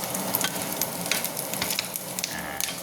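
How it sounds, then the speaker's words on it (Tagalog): Pork sizzles in its own rendered fat in a pan, cooked with onion, garlic, tomato and fish sauce: a steady, close crackle with scattered louder pops and light stirring scrapes, no voices. "gisahin pa natin konti, pamantikain pa natin"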